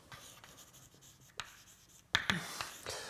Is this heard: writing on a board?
yes